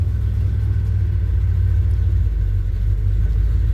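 A 1978 Chevy C10 truck engine rumbles loudly on a cold start after long disuse, a steady, deep idle close by with no voices.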